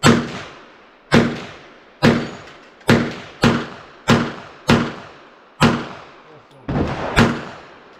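Nine sharp, loud gunshots fired one at a time at targets using aged CCI TNT ammunition, each crack followed by a decaying outdoor echo, spaced roughly a second apart with no talk over them.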